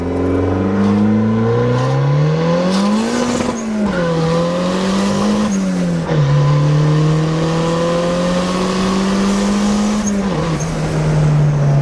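A turbocharged Honda Civic accelerates hard, its loud engine tone climbing steadily through several gears with brief dips at each shift, close and continuous.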